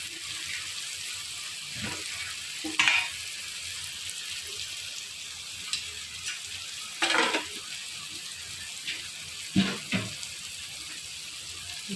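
Tomato frying with spices, turmeric and coriander-cumin powder in a pan for a cabbage dish, a faint steady sizzle broken by occasional scrapes and clinks of a spoon.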